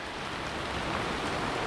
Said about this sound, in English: A little rain don't stop me.